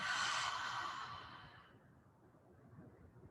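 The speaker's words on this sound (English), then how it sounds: "Open mouth exhale." A long open-mouth exhale during prenatal yoga breathing, a breathy whoosh that starts strong and slowly fades over a few seconds, close and alone.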